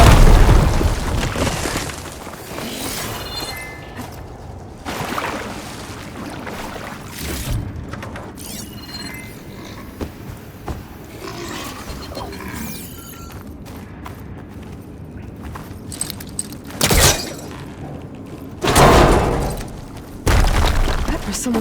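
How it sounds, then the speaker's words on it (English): Fire gleam explosions in the video game Horizon Forbidden West, with loud booming blasts and bursts that rise over a rumbling game soundscape, and a heavy blast near the end. Nobody speaks. "Should be able to blow up that fire gleam."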